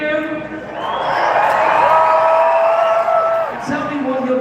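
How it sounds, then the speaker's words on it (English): An arena crowd at an indoor Arenacross motocross event cheers and whoops steadily, a loud, dense roar with rising shouts running through the whole stretch. "I can hear them when I'm riding, cheering."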